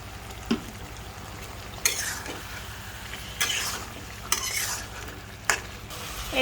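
Spices sizzle and fry in a pan for a home-cooked dish while a spoon stirs them, scraping sharply against the metal every second or so over a constant soft crackle. No one speaks.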